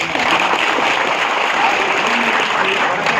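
An audience at a meeting of the municipal garbage auto drivers' association in Tumakuru breaks into loud, sustained applause, a dense and even roar of clapping with faint voices mixed in.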